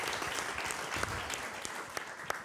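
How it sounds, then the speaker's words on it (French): Audience applause at a Club144 Fête de la Musique show, a steady, fairly faint patter of many hands clapping throughout with a few sharper individual claps standing out. "on peut bien sûr les applaudir"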